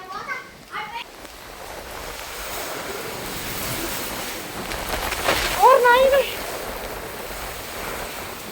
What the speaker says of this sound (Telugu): గాలి, మెరుపులు, వర్షం అయితే చాలా పెద్ద వర్షము